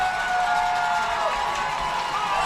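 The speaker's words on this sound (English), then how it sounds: "I hear the crowd" A steady roar from the crowd at a Neenah vs. Muskego high school football game fills the clip, loud and continuous, with a faint tonal whistle drifting through the middle.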